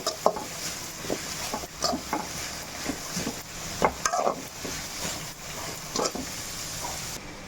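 Vegetables for a street-style chicken pasta are sautéed in a pan, with a soft sizzle under repeated close scrapes and knocks of a spoon stirring at an uneven pace, and no voices.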